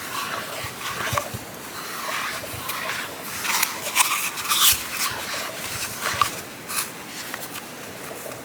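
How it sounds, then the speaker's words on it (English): Yarn scraping and rubbing against a piece of cardboard while a magic cake of scrap yarn is crocheted, a close, steady rasping texture with brief louder scuffs throughout. "you can hear me rubbing against the cardboard"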